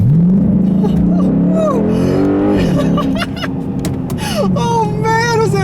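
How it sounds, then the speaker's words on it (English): A 2006 Chrysler 300C SRT8 with a 6.1-liter, 425-horsepower Hemi V8 accelerates hard on a back road. The engine roars loud and close, its pitch climbing through the revs and then easing off. "this is a big American car with a V8 engine, so how does it do on back roads?"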